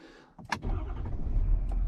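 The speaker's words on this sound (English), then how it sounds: "It's always a good sign, you know, truck starts." A 2017 Ford F250 with a 6.7 diesel engine starts with a short crank and catches, then settles into a steady low idle rumble heard from the cab, with no talk.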